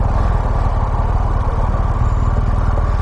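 A loud, close BMW motorcycle engine runs with a steady low rumble throughout while riding, no speech.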